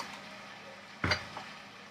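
Curry seasoned with salt, turmeric, green chilli and ginger paste is stirred in a pan: one short scrape of the spoon, with a fainter tap after it, over a low steady sizzle.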